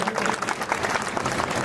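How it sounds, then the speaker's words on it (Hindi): Dense, steady clapping from a large crowd at a community awards ceremony for Prajapati society students and achievers, filling the short moment evenly and loudly without pause. "जोरदार तालियां एक बार।"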